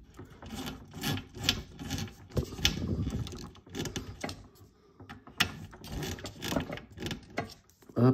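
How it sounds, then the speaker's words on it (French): Small parts of a Toyota Supra scale model from Fast & Furious being screwed together, giving close, irregular rubbing and ratcheting clicks in short bursts, with no talking. "maintenant on va visser le tout"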